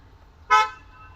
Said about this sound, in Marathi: मुंबईमध्ये एवढं ट्रॅफिक असतं मित्रांनो,